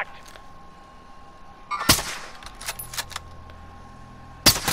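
Gunfire in the Warzone battle royale game: a few sharp shots stand out, one near the start and another late, over a quiet background with scattered fainter distant pops.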